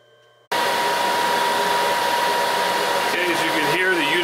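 A Monarch 10EE metal lathe starts up abruptly after a quiet hum and runs with a loud, steady whine and broadband mechanical noise, its tone shifting slightly toward the end.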